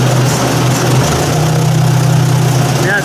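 Ford 800 tractor engine idling at a steady low rumble, near and continuous throughout with an even, unchanging tone.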